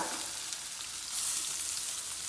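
Ginger, garlic, green chilli and onion fry in hot oil for a fish biriyani, giving a steady close sizzle and crackle that swells slightly toward the end, with no voices.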